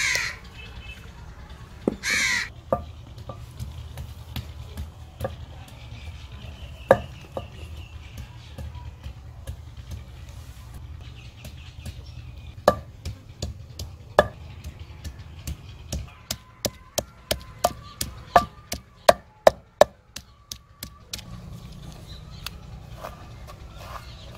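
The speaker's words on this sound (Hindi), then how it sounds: "अब अदरक कूट लेते हैं" Ginger is pounded in a village kitchen: sparse sharp knocks at first, then a quickening run of crisp, evenly spaced strikes, over a quiet outdoor background with occasional bird calls.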